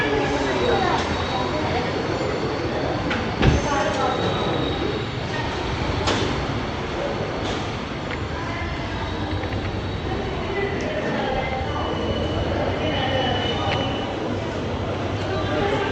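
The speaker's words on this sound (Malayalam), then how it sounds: "കോയമ്പത്തൂർ ടു മാംഗ്ലൂർ ജംഗ്ഷൻ വണ്ടി വന്നു." Coimbatore to Mangalore Junction train pulling into Tirur railway station in Kerala, where construction work is going on, with a steady loud rumble of rail cars and a sharp clank partway through, while a busy crowd murmurs throughout.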